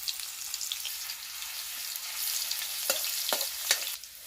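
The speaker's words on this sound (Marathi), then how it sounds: "तेल गरम झाल्यावर सर्वात आधी लसूण टाकलेलं आहे आपण" Garlic sizzles in hot oil, a dense, steady crackling hiss up close that grows busier toward the end, with a few sharp pops or spatula taps near the finish.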